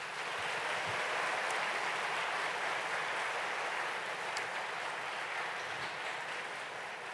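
A crowd at a union strike rally applauds its officials with steady, dense clapping that holds an even level throughout, slightly distant and alone with no speech over it.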